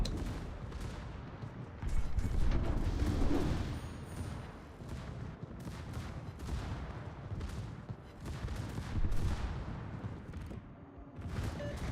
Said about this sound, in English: I'm happily farming the French battleship with my secondaries